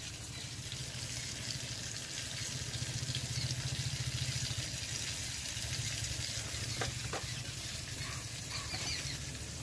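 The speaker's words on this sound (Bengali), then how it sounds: "এইবারে পেঁয়াজ কুচি দিয়ে দেবো।" Chopped onion frying in a pan for a bottle gourd and prawn curry, a steady close sizzle with faint stirring scrapes, no talk.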